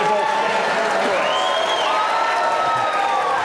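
Debate audience at a Democratic primary gubernatorial debate applauding and cheering steadily throughout, a dense broadband wash of clapping with crowd noise and some voices mixed in.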